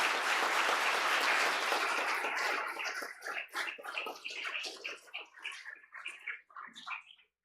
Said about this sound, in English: We believe your accomplishments are deserving a round of applause.